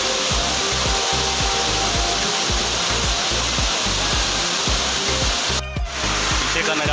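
Honhed waterfall near Keshkal roaring as a loud, steady broadband rush of falling water, heard close and continuous with a brief dip near the end, no clear speech.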